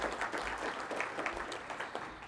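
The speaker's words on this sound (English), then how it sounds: "we should applaud them" A conference audience applauds, a steady faint patter of many hands clapping heard from a distance for a couple of seconds.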